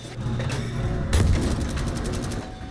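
Gunfire in a battle-royale shooter game: a loud sharp burst of shots with booming impacts and reverberating echoes over a quieter background of game ambience, no voices.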